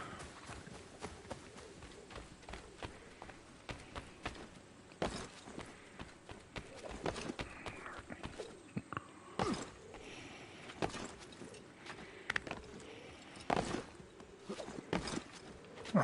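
Horse hooves clip-clopping in Assassin's Creed III, a steady run of quick hoof hits at a gallop or trot, fairly close and consistent over a busy game soundscape, with no talk.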